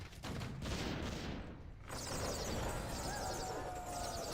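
Mortar teams fire in a Warcraft III match, a cluster of dull, overlapping bursts near the start, followed by a steady wash of mixed battle noise and a thin high tone.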